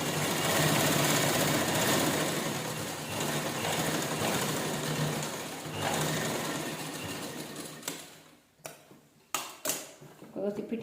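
A sewing machine stitches the seam of a top with sleeves attached, running loud and steady for about eight seconds before stopping, followed by a few short clicks and bursts as the fabric is handled.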